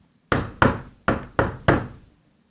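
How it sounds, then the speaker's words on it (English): Five firm knocks on a wooden door, loud and close, in an uneven rhythm with short gaps and no voices. "They came back in an hour and knocked on the door."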